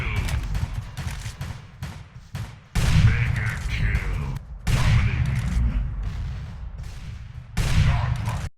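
Gunfire from a mobile shooter game: bursts of heavy automatic shots and booming blasts, loud and dense, separated by short lulls.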